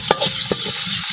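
Potatoes frying in a pan, a close, steady sizzle of hot oil broken by a couple of sharp scraping stirs.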